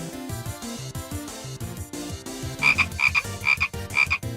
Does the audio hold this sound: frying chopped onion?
no